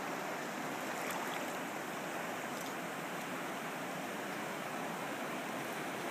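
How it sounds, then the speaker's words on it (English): Waterfall pouring down at the river's edge below rocky ledges, a steady broadband rushing roar that runs unbroken and fairly loud, with no voices. "Pretty calm for all that waterfall."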